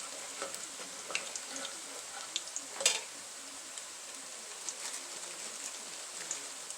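Plantain slices frying in a pan, a soft continuous sizzle with small pops and crackles, close and fairly quiet, with no talking.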